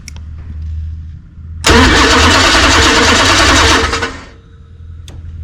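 A Mopar A-body car's starter cranks and the engine catches after shims were added to the starter, a loud sustained grinding whir lasting a few seconds before dropping to a low idle rumble, no one speaking.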